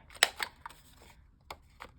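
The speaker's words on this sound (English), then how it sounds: "if you have one of these 3-size corner rounders, I use the small one" A handheld three-size corner rounder punch trims the corners of paper color palette cards, giving a few sharp crisp clicks, one loud snap followed by quieter ones, close up with no talk.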